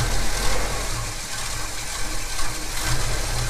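Holden HK Premier wagon engine with a Holley carburettor idles low and steady, a dense rumble close by with no talk over it.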